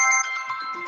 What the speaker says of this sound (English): Throw that on the floor, that phone ringing.